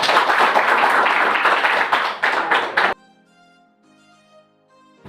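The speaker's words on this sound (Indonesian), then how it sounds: "Oke, tepuk tangan." Students in a nursing class clap their hands together for about three seconds, a dense burst of applause that stops abruptly and leaves near silence.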